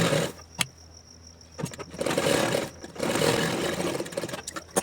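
A sewing machine stitches collar cloth over buckram in short bursts, its rapid whirring running a second or two at a time between pauses, close and fairly quiet, with a click at the start and end.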